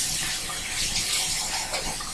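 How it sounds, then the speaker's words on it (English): Water pours into a cooking pot in a steady, close, loud gushing stream with no pauses and no talking. "I'm going to add just a little bit of water in there."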